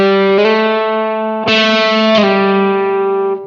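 Distorted electric guitar notes sustaining loudly, with a couple of quick pitch shifts where the note slides to a new position, no talking.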